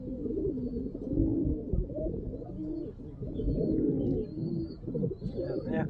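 A male Kalshira pigeon cooing repeatedly, close and fairly loud, with low throaty rolling coos in a steady rhythm.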